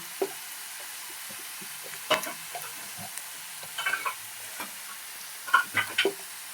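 Chili and turmeric powder fry in hot oil while being stirred, giving a low background sizzle broken by a few short scraping stirs, close and fairly quiet with no voices.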